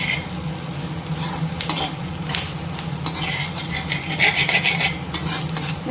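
Ivy gourd stir-fry sizzles in a pan while being stirred, a close steady hiss with repeated scraping and clinks of a spoon against the pan.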